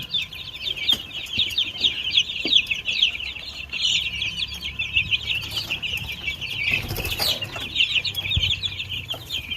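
Young growing chicks chirp in a busy, continuous high-pitched chatter inside an enclosure, with scattered flutters and wing-flapping bursts as they try to fly out, nearby and without voices.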